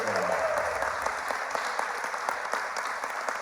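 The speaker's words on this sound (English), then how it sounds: "How about a round of applause for this?" Wedding guests give a round of applause for two kids who put the decorations together, a dense, steady roar of many hands clapping that lasts the whole stretch without a break.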